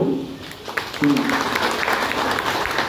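An audience at a town party workshop in Armoor claps to approve a resolution, a dense burst of applause swelling after the first second and holding steady, with voices mixed in underneath.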